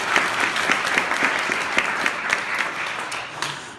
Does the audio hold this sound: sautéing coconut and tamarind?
no